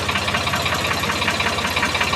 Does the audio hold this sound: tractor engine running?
yes